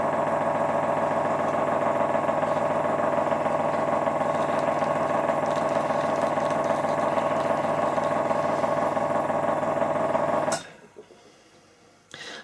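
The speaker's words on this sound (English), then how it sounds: "So that noise, there was the airbrush compressor just starting up." An airbrush compressor runs steadily as it starts up and fills its tank, a loud close mechanical hum with a rapid rhythmic pulse, then cuts off abruptly near the end, leaving a faint hiss.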